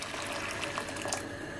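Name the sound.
hot water poured into a cooking pot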